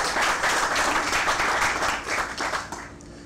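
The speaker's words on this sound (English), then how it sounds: "Let's give a round of applause for a phenomenal performance." An audience at a groundbreaking ceremony for a Westside education and training center applauds after a mariachi performance. Dense, sustained clapping from a crowd holds steady and then thins out toward the end.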